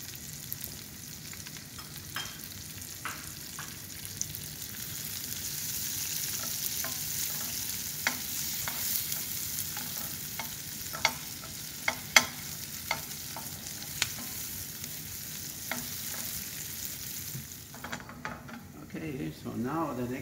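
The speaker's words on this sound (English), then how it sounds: "I saute it lightly a little bit." Shallots sautéing lightly in a pan for bouillabaisse, a faint steady sizzle with scattered clicks of a utensil stirring against the pan, quiet and close.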